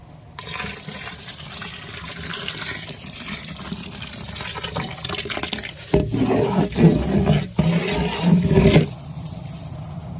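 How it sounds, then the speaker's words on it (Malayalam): Second coconut milk poured into semiya payasam in a pot, a steady liquid pour running throughout with heavier splashing bursts toward the end. "രണ്ടാം തേങ്ങാപ്പാൽ ഒഴിച്ചു കൊടുക്കാം."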